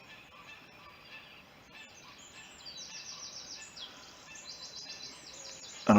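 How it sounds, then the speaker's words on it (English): Geese honk and call from somewhere out of sight beyond a tree, faint and distant over a steady outdoor background, with a sudden louder sound at the very end. "I can hear the geese over the other side of that tree"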